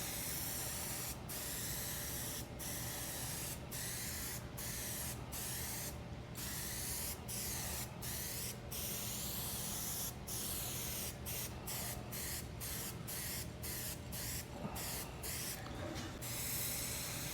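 Steady spray-gun hiss as a second, heavier coat of paint goes onto a 1972 El Camino, broken by short bursts and brief pauses between passes, continuous and close with no talking.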